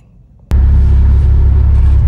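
A 2016 Porsche 911 Turbo S engine fires abruptly after a faint click, then settles into a loud, deep, steady idle rumble close to the microphone.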